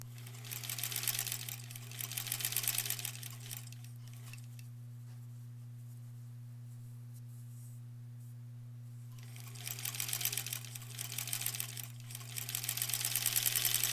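A sewing machine stitches quilt border pieces for a granny squares quilt in two runs of fast, steady rattling, separated by a quiet pause over a constant low hum.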